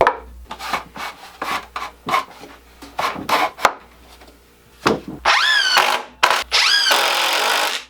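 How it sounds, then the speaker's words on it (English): A power drill driving screws into a wooden garage shelf, with rubbing and scraping of wood up close before two loud whining bursts of the drill at the end, and no talking. "I'm then going to add a couple screws on each side to secure it in place."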